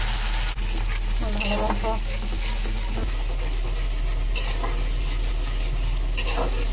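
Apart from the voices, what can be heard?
frying chili paste gravy in a pan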